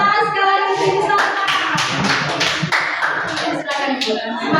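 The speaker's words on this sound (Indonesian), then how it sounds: "Tepuk tangan sekali lagi sini sama." Hands clapping in a school gathering of teachers, a steady flurry of claps running throughout, fairly loud and close, with voices mixed in underneath.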